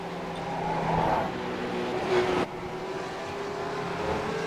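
Race cars in the 24 Hours Nürburgring endurance race pass at a distance. Their engines rise to a brief swell and then drop away, under a steady background rumble.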